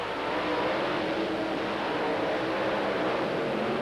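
A monster truck racing over the finish line in a drag-style event, its engine a loud, continuous broadband roar that holds steady throughout with no pauses and no talk.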